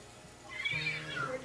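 A ghost cat in the video game Luigi's Mansion 3 gives a single short, faint meow that rises and falls over a quiet game background.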